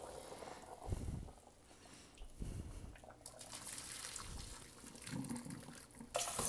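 Tap water runs while a cooking pot is rinsed after boiling pork bones, a faint continuous splash with scattered clanks and sloshes from the pot.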